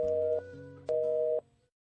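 Telephone busy signal: two clear, steady tone bursts separated by a short silence, with no talking.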